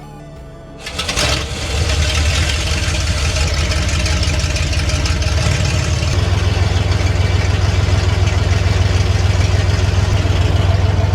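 A Ford Bronco's big block V8, off the road for 13 years, catches and settles into a loud, steady idle that grows slightly heavier and deeper partway through, running close and alone.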